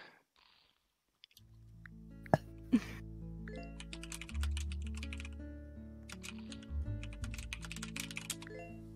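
Typing on a computer keyboard during Roblox play: quick runs of clicky keystrokes, close and fairly soft, over steady game music, with a couple of sharper clacks.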